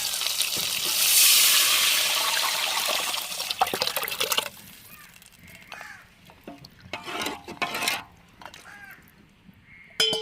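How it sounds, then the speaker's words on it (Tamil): A loud sizzling splash as rasam hits a hot pan, fading into softer bubbling and sputtering, with a crow cawing in the background. "கூட்டி வச்ச ரசத்தையும் சேர்த்துக்கிறோங்க"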